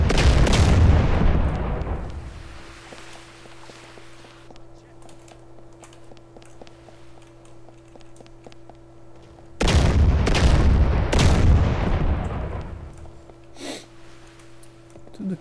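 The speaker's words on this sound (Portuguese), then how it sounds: "Só as explosões ali do bug" Two big booming explosions in the game DayZ (MTA DayZ, Bayside) burst about ten seconds apart, each decaying into rumble, with a steady electrical hum and small clicks between them.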